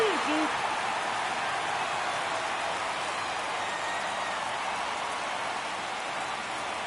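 Steady, dense crowd roar fills a ballpark in MLB The Show 24 during a Reds vs Cubs game, a constant broad wash of noise with no distinct cheers standing out.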